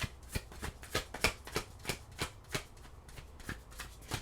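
Tarot cards being shuffled by hand in a quick series of crisp riffling bursts, close and fairly quiet, with no voices.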